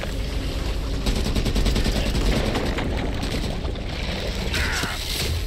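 Rapid automatic gunfire rattles continuously in a video game, dense bursts of shots with a few sharper cracks and explosions layered over a constant loud battle din.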